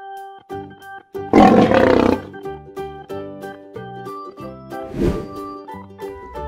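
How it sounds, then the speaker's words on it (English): A lion gives one loud, close, rumbling roar, then a second, shorter and fainter roar follows, both over soft background music. "Lion."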